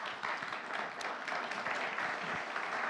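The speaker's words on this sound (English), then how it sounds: "So we'd like to have a little applause for that one" Applause from the audience at a defence policy event, a soft, fairly distant patter of many hands clapping steadily for a few seconds.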